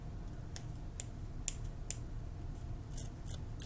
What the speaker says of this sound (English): I'm going to cut right underneath the seam for the part of the shirt like this.